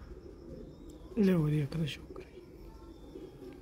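Pigeon cooing among a flock of kamagar breed pigeons, one clear throaty coo phrase rising briefly near the middle over a low outdoor background, with someone speaking nearby.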